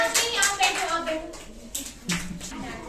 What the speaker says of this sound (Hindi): जोरदार ताली बजाइए चांदनी कुमारी के लिए